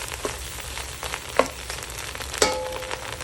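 Ingredients for Kapampangan kilayin sizzle softly in a pan, a faint steady frying hiss broken by a few light clinks of a utensil against the cookware.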